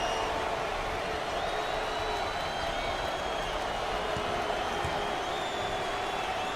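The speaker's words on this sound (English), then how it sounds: "Nervous crowd here in Jacksonville." A crowd fills a Jacksonville basketball arena during a tied NCAA tournament game between UAB and North Carolina. The murmur is a constant broad roar, fairly distant, with faint squeaks and bounces mixed in.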